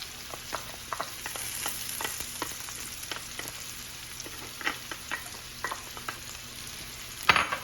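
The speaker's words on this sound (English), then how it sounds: "we're going to throw in our garlic." Garlic sautéing with onions and peppers in a pan, a continuous close sizzle broken by frequent light scraping stir taps in an uneven rhythm, ending on a louder clatter of utensil against pan, no voices.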